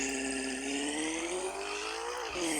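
A heavy truck engine in the TE Offroad video game, styled like the Magnum Opus from Mad Max, drones and revs steadily with a rising whine and a brief dip before climbing again, with no talking.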